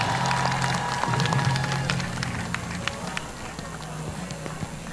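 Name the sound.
crowd applause at election rally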